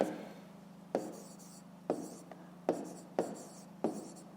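A pen writes on paper during a maths exercise: several short, close scratching strokes separated by pauses, faint and alone.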